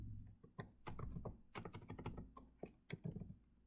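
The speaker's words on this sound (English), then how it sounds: "I start typing" Rapid, irregular clicking of keys on a computer keyboard, close and fairly quiet, with brief pauses between bursts.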